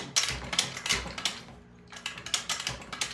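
An old floral pick machine runs with rhythmic mechanical clacking strokes, pauses briefly for about half a second, then resumes its steady clatter nearby.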